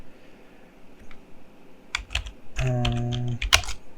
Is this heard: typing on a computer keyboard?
yes